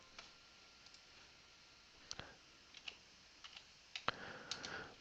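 A computer keyboard clicks quietly and close by, with scattered individual keystrokes that cluster into a brief burst of typing near the end and no speech.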